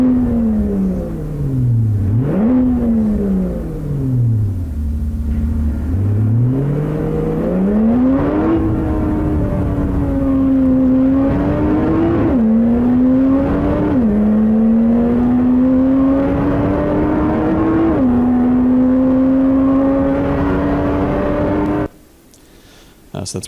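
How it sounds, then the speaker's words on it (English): Synthesized combustion engine sound made by granular synthesis for automotive sound design, a steady tonal drone that dips, rises and revs in stepped sweeps for about twenty seconds before cutting off abruptly. "it's a demo of that creating a combustion engine sound"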